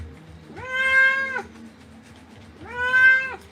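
A wet Ragdoll cat in a tub lets out two loud, drawn-out meows close by, a short pause between them.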